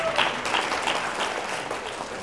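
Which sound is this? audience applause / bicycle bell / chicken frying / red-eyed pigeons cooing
audience applause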